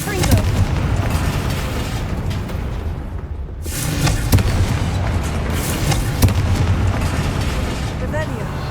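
Confringo spell explosions in the video game Hogwarts Legacy, a steady barrage of booming fiery bursts and pops with a brief lull before another blast, while voices talk throughout.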